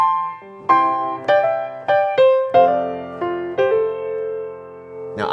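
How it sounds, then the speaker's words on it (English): Piano plays a melody in slip-note style, with grace notes sliding into each main tone. The bright, sustained phrases ring close and alone. "But if you add that slip note, it sounds like this."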